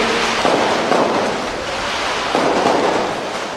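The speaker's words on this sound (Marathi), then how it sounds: "हे विजयाचे फटाके आज केला होते" Victory firecrackers crackle and pop at a political rally in dense, continuous bursts, with two louder clusters of bangs standing out against the steady crackling roar.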